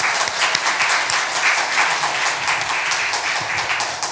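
Sustained applause from a church congregation welcoming a pastor and his wife at a Sunday service, dense steady clapping throughout, fairly loud and close.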